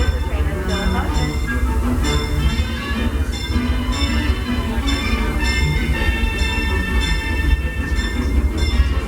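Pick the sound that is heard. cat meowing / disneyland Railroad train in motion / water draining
disneyland Railroad train in motion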